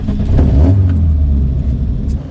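A 1973 BMW 2002 tii engine revs hard as the car is driven, a loud, close, deep rumble that rises and then holds steady under acceleration, with no voices.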